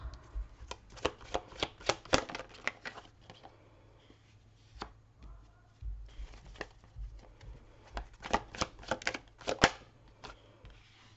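A deck of tarot cards is shuffled in rapid riffling flurries of crisp flicks and taps, close to the microphone, with short pauses between bursts and no speech.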